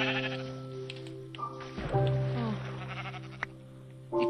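Sheep in the Xbox edition of Minecraft bleat repeatedly, the wavering game sound effects close and clear over faint background game noise.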